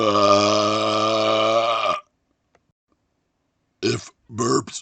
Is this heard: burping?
yes